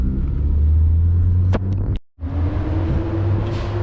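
Audi A4 B5 with a big turbo accelerating, a loud, steady engine roar from inside the car, briefly broken by a gear shift gap before the drone resumes and continues.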